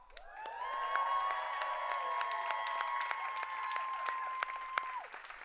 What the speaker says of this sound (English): let's give a round of applause for the cast of The Oval